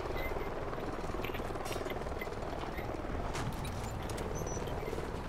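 Helicopter in the Call of Duty: Ghosts multiplayer map Free Fall, a steady rotor drone with dense broadband rumble holding at constant loudness throughout, joined by scattered gunfire-like bursts and no talk.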